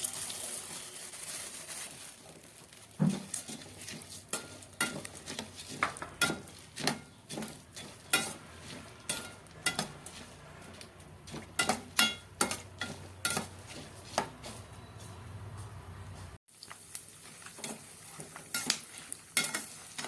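Pumpkin seeds roasting in ghee in a pan on a low flame, stirred with a utensil that scrapes and clinks against the metal in steady bursts over a soft, continuous sizzle, with a brief break near the end.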